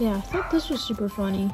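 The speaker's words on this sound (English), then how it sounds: "Oh my gosh, that dog." A dog yips and barks in short bursts close to the mic while someone talks indoors during a package unboxing.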